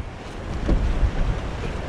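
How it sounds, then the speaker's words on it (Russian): Stormy gale of about 15-18 m/s buffeting the mic on a 1721 m peak in Norway's Hardangervidda, near a tent; a steady broadband roar with a couple of stronger gusts swelling and fading, no voices. "сегодня штормовой ветер такой, 15-18 метров в секунду. У нас уже палатку здесь задувает, на бок клонит."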